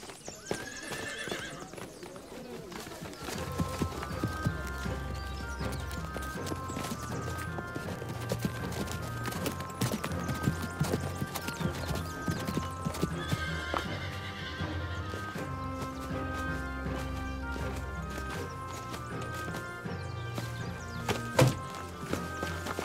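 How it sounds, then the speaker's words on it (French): Horses whinny and their hooves clip-clop in a busy outdoor scene from an animated Last of the Mohicans episode. Snorts and steps mix with a soft musical tone throughout. "Vous pouvez reprendre vos chevaux."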